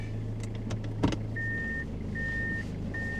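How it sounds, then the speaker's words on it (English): Reversing beeps from a 2001 Toyota Camroad diesel motorhome sound as three evenly spaced steady electronic tones over the low hum of the running engine, heard from inside the cab. "Backup beeping."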